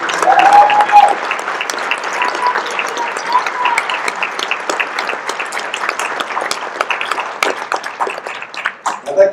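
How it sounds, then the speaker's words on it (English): Audience at a Colorado political convention breaking into sustained applause, a dense wash of clapping from a large crowd, fairly loud and continuous with a brief whistle at the start. "please stand and give a round of applause to our current state board"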